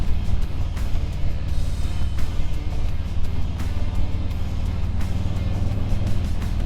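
A Harley-Davidson Street Bob 114 V-twin motorcycle rumbles steadily while being ridden, its low engine drone loud and close and mixed with wind buffeting, with no talk.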